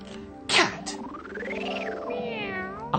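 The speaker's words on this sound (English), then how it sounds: "Cat." A cat gives a drawn-out meow that rises and falls in pitch, clear and close, with a short sharp knock near the start and another just before the end.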